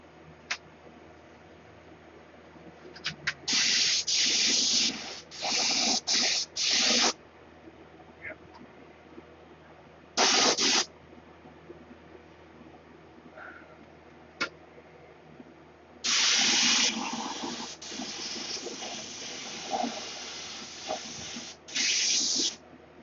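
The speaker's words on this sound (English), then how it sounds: "So that'll disappear when I hit it with the spray gun." Bursts of hissing spray from a spray gun applying clear coat start and stop repeatedly, short blasts followed by a longer sustained spray, close by against a quiet background.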